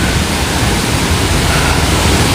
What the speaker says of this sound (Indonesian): Cuman air terjun doang coy.